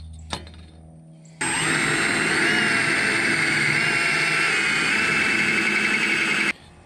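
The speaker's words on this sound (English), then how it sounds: "we just drilled the rivets out" A power drill whines at high speed, steady and close, while drilling out the rivets on a pulley from a custom-built diesel zero-turn mower, starting after a brief knock and stopping abruptly.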